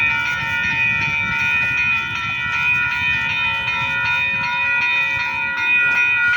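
A freight train passing close by alongside a second train heading the same way, with steady rolling rumble and a sustained high metallic wheel squeal ringing throughout.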